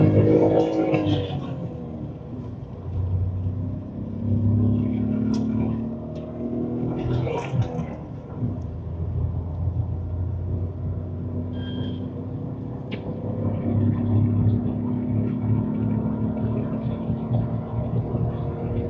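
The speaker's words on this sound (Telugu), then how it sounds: "గాయ్స్ ఇప్పుడు మనం దీన్ని 0 to 100 టెస్ట్ అయితే చేయబోతున్నాము." A Tata Tiago petrol hatchback with a manual gearbox accelerates hard in a 0-100 run, its engine drone rising and falling under a person talking throughout.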